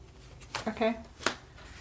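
A deck of cards being shuffled produces a short burst of riffling and flicking, close and soft, with a brief snap near the end.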